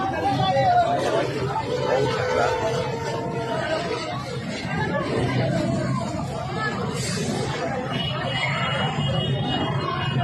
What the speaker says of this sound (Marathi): तुम्ही पाहू शकता किती गर्दी झालेली आहे